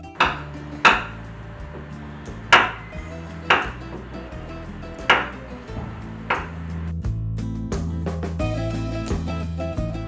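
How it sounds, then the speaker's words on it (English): A knife chops dark chocolate on a board, with about seven sharp, spaced thuds over a bright kitchen music bed that carries on after the chopping stops. "I'm going to chop it up."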